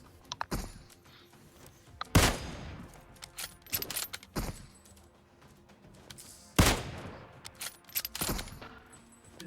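Bursts of gunfire from the mobile battle royale game PUBG Mobile, with loud shots around 0.5, 2.2, 4.5 and 6.6 seconds followed by ringing decays and scattered smaller impacts in between.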